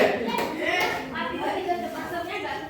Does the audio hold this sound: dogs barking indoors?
no